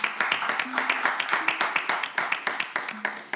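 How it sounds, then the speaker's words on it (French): An audience at a Togocom prize draw claps in a steady rhythmic beat, sharp regular claps close and clear, with a few brief voices mixed in underneath. "On applaudit aussi."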